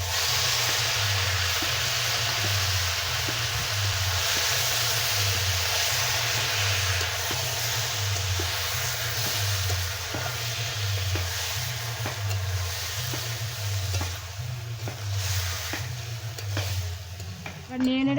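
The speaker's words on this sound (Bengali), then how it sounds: "এবার নেড়ে নেড়ে কচু শাকটার জলটা শুকিয়ে নেব।" Taro leaves (kochu shak) with turmeric and salt stirred in a pan to cook off their water, with steady sizzling and hissing and a regular rhythmic scrape of stirring close by.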